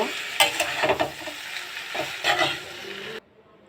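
Korean ramen noodles stirred and fried together in a pan with egg, a steady sizzle broken by scraping stir strokes in short bursts, close and moderately loud, ending abruptly.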